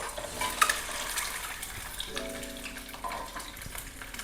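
Boiled eggs go into oil and fry, with a quiet sizzle, a few clinks and light scraping stirs in a home kitchen.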